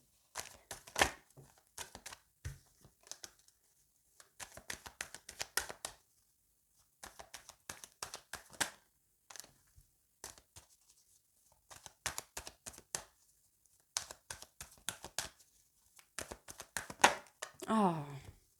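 Tarot cards being cut and handled on a table, giving bursts of crisp clicks and soft slaps spread across the clip, between stretches of quiet.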